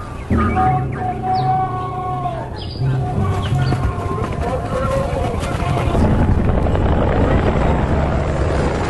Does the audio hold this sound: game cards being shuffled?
no